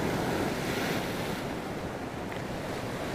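Ocean waves at Sirombu beach wash in a continuous loud roar of surf with wind buffeting the microphone, no voices.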